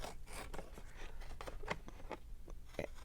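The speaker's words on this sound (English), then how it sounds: "I'm going to trim this white edge off here" Scissors trim the white edge off a sheet of paper for a handmade folding journal, making a run of close, crisp snips and rustling paper scrapes with no voice.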